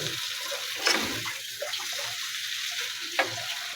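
Noodles dropped into a frying pan, a soft wet sizzle with two sharp splashy bursts as they hit the hot pan, fairly faint and heard alone.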